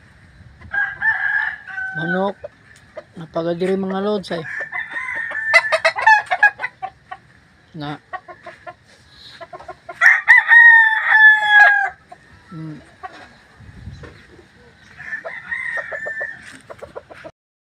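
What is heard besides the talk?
chickens clucking and rooster crowing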